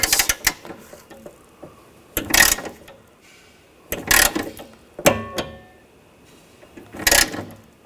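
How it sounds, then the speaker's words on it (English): Torque wrench working bolts on a BMW X5 window motor, heard as several separate short bursts of mechanical clicking with quiet gaps between them, close and alone. "We're going to torque these to 89 inch-pounds."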